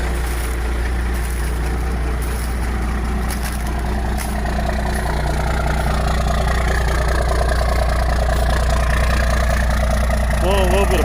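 A 12-valve Cummins diesel idles after a cold start, a loud, steady, low rumble close by that continues unchanged throughout.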